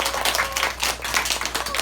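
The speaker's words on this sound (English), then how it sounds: "Give him a big round of applause, everybody." Brief burst of audience clapping at a presentation about the American Revolution, a dense run of claps over a low steady hum, fairly close and even in level.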